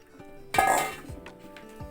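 Dry lentils tipped into a cooking pot for a cucumber dal, a sudden clattering rush with light metallic clinks that fades into scattered small taps, close by with no talk.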